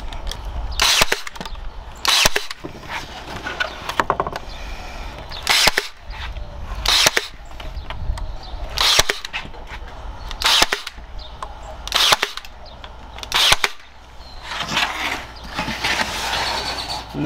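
Sharp, loud nailing strikes hitting boards while building a marquee frame, about a dozen percussive bangs at irregular intervals over a steady background of handling noise and creaks.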